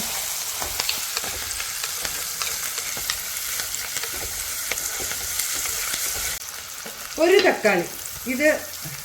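Mushrooms sauté with curry leaves and salt in a hot pan, a steady close frying sizzle with scraping stirs, and a voice briefly speaks near the end.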